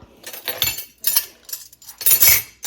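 Masa and pink salt being mixed by hand in a bowl, with close, uneven bursts of scraping and light clinking in several separate strokes.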